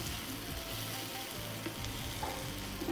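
Onions and tomatoes stir-fry in a pan for urad dal wadi, giving a steady close sizzle with scraping stirring strokes throughout and no speech.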